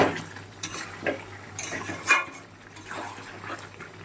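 Chicken curry being stirred in a pan over low heat before covering, with intermittent scraping and light metallic clinks of a spoon against the pan over a low background hum.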